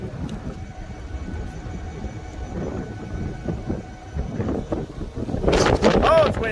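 Low gusty wind rumble buffeting the microphone, growing stronger toward the end, with a voice speaking briefly.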